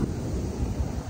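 Big sea waves break on the shore at a skimboarding beach, a steady, fairly soft wash of surf mixed with wind rumble and no voices.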